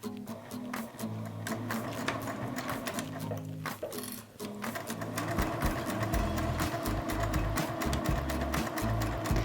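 A sewing machine runs a line of 2.5 mm stitches along a fabric hip pouch, a close, steady mechanical whir that briefly pauses and then continues faster and louder.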